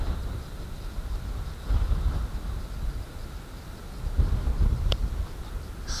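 Cold southerly wind sweeps the Black Sea coast at Anapa, a low, gusty rumble buffeting the microphone in uneven surges, with no distinct wave breaks standing out and no voices.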